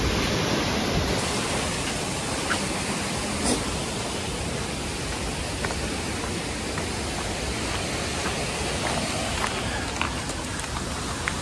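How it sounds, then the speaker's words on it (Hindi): A waterfall in Goa, a steady, dense roar of rushing water that fills the whole clip evenly, close and constant with no breaks. "ये है वाटरफॉल, यहाँ का नीचे भी है।"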